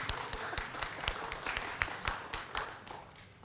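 Scattered hand claps from a ceremony audience, a dozen or so uneven sharp taps, fairly faint and sparse rather than a full ovation.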